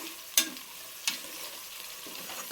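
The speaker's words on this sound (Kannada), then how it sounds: "ಟೊಮೊಟೊ ಹಾಕಿ ಟೊಮೊಟೊ ಫ್ರೈ ಮಾಡಬೇಕು" Tomatoes frying in oil for mushroom pulao give a quiet sizzle, broken by two sharp spoon scrapes against the pan.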